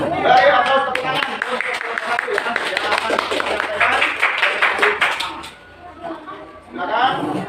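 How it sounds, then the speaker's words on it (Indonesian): Students in a classroom clap their hands in scattered bursts, mixed with chatter and voices talking over them. "Dari atas tepuk tangan."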